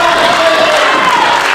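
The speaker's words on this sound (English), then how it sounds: "Crowd getting behind Gino now." A wrestling crowd at a Next Up Pro show cheers for Gino Medina during his match with Ty Awesome, a loud, continuous roar of voices with whoops that fills the room without a break.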